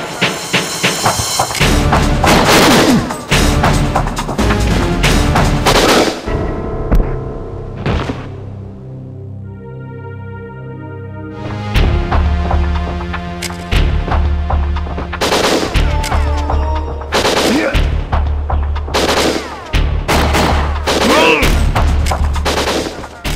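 Rapid bursts of gunfire in the N64 game WinBack: Covert Operations crack and thump loudly, with a brief lull in the middle before the shooting resumes in heavy volleys.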